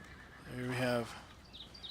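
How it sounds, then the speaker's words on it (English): A horse neighs once, fairly close, in the ambient audio of a horse stable in Farming Simulator 17, a single harmonic whinny rising over a quiet background with faint bird chirps after it. "Lots of ambient horse sounds here at this horse stable."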